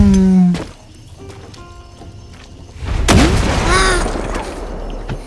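A single heavy boom from a grenade blast in the Far Cry 6 video game, a deep loud explosion with a rumbling tail, preceded by quieter game sounds and a brief tone.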